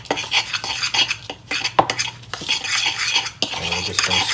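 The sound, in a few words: mixing seasoning with cracked pepper in a bowl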